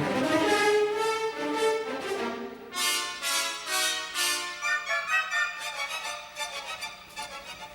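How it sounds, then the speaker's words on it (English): An orchestra sounds a four-note motto, first clanging in the brass and then repeated faster in quick, pulsing figures by the woodwinds and strings. The playing is loud and rhythmic, with no voices. "the old four-note motto clangs forth again in the brass, and then faster in the woodwinds, and then even faster in the strings"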